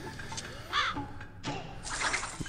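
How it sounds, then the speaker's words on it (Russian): A raven caws in the game Ronin: The Last Samurai, with a few short harsh calls close by, the clearest burst coming around the middle, over a low ambient bed. "Тут еще ворон какой-то возле меня кружится."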